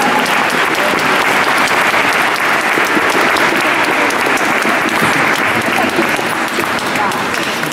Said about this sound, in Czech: Prosím, velký potlesk pro ně, pro všechny